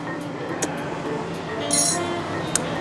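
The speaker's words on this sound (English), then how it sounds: "So give that just an extra stir to blend in all the flavors together." A spoon stirs a pink gin cocktail with elderflower in a glass, giving a few light clinks and a brief brighter rattle of ice against the glass over a low background hum.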